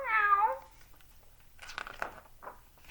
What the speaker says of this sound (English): there's a little kitty cat down here.